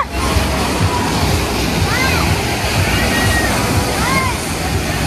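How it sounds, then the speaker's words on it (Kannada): Water flows and sloshes loudly and steadily at a water ride at SeaWorld Orlando, Florida, with faint voices and a few high whistling tones in the background. "ನೀರು ಹರಿದು ಹೊಂಟೈತಿ ಬರೇ"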